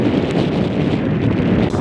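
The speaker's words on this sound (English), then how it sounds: "It's really windy" Loud, steady wind roars and buffets against the microphone at Magpie Mine at sunset, a dense rumbling blast with no pauses throughout.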